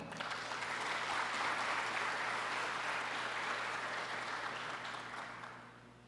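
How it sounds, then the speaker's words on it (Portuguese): An audience at a public hearing in Naviraí claps for a vice-mayor being introduced at the table, a continuous even wash of applause that holds steady and then slowly fades toward the end. "Uma salva de palmas, por favor."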